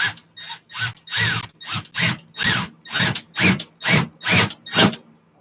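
Drill bits boring into material, a run of about eleven short, evenly spaced grinding bursts with rising whine, close and fairly loud, each separated by brief pauses, with no talking.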